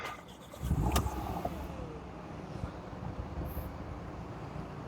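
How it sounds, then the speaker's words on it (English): A Porsche Macan engine cranks and catches in a quick burst, then settles into a steady low idle rumble that carries on alone with no talking. "I'm gonna start the car."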